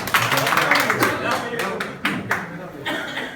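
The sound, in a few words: audience applause clapping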